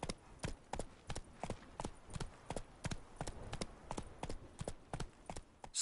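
Roach, a horse in The Witcher 3 video game, clip-clops along in a steady rhythmic gait, each hoof strike crisp and close, with faint ambient background and no talking.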